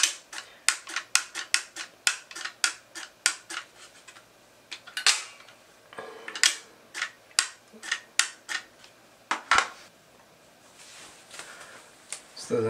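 Mini pistol crossbow trigger snapping as it releases, a quick series of sharp, light clicks repeated many times, close and alone without talk.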